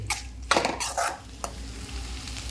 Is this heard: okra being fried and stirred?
yes